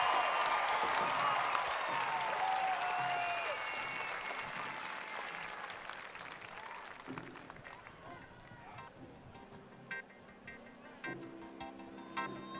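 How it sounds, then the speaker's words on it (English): Audience applause at the 2024 Tennessee Walking Horse World Grand Championship, dense clapping from a large arena crowd that swells early, then fades as an announcer's amplified voice takes over. "how about a big round of applause?"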